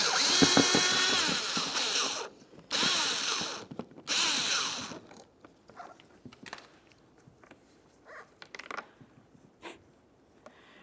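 A power drill whirs loudly in several close bursts while backing a Phillips head screw out of the top inboard corner of a 2006-2011 Honda Civic front bumper cover, followed by quieter handling clicks and knocks.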